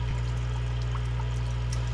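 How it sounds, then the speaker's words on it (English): Water pours steadily into a mangrove aquarium tank, a constant close trickling splash over a low pump-like hum. "I don't think you guys want to watch the tank fill up"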